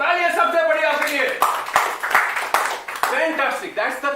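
Audience applause breaks out at a motivational talk, clapping of moderate loudness mixed with a speaker's voice over it, lasting a few seconds.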